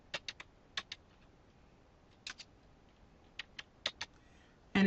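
Keys on a computer keyboard are tapped in short bursts of a few quick strokes separated by pauses, close and clear against a quiet room with no talking.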